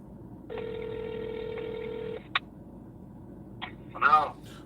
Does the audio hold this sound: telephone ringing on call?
yes